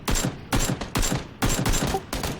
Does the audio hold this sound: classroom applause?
no